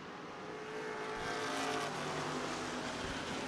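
Street stock race cars at Mohave Valley Raceway accelerating as the green flag drops, a dense, loud roar of several engines building and holding steady with no speech.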